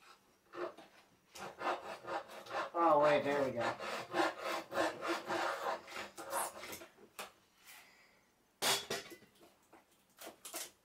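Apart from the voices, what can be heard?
sawing into wooden desk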